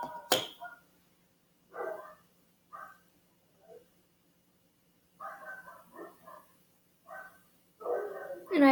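Neighbors' dogs bark in short bursts in the background, several separate barks and yips spread out with quiet gaps between them, fairly clear but somewhat distant.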